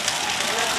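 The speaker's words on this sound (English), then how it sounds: "This is the Finn Street Bonfire, or the South Belfast Bonfire" A large bonfire on Bonfire Night in Belfast, 11 July 2012, burns with a dense, steady roaring hiss of flames, heard close by with no clear individual pops.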